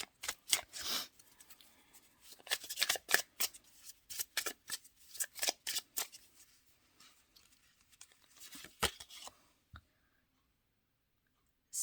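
Tarot deck being shuffled, a run of crisp riffling and snapping bursts of slick cards for about nine seconds, then near silence with one last soft tap.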